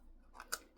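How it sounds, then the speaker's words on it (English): Tiny precision scissors snip napkin material during Christmas ornament crafting, giving a couple of quiet, close, sharp cutting clicks, one crisper than the rest. "I'm just taking my tiny little precision scissors and I'm just snipping it off in there"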